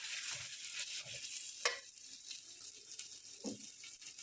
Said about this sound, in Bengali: তো এই মাশরুমটা এবার ঢেলে দেবো